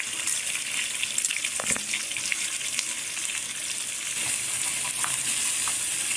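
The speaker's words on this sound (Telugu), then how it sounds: "చక్కగా ఉల్లిగడ్డలంతా బ్రౌన్ కలర్ వచ్చేంత వరకు వేయించుకోవాలి." Chopped onions fry in hot oil in a kadai with a steady, bright hiss like running water. A few faint clicks sit in the background and no voices are heard.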